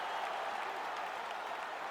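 Crowd in the UFC 5 video game cheering and clapping after a fight that went the full 25 minutes, a steady, moderately loud roar of applause with no pauses.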